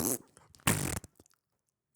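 A man imitates a fart with his mouth, producing two short raspy blasts, the second longer, with people talking in a casual podcast setting.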